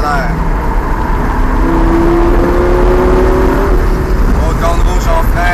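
Lamborghini Gallardo accelerating around the ICAR circuit, a steady loud engine roar with a rising tone through the middle, continuous and close, with an instructor's voice talking over it.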